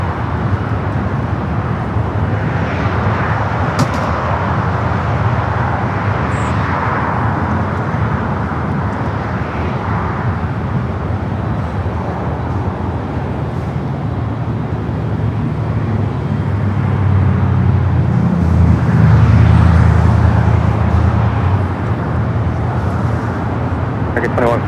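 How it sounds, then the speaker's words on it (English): An Airbus A330neo taxiing at LAX, a steady jet engine drone that swells slightly louder toward the end, under continuous nearby talk and airport ambience. "they're probably waiting for this A330 Neo to start her taxi"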